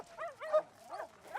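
A dog in a TV show gives soft whimpering yips and short barks, a few quiet bursts spread over a moment, faint and alone.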